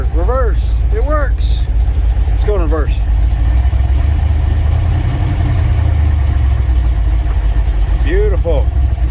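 An old black truck's engine runs steadily as it backs up in reverse, a low rumble throughout with voices talking over it.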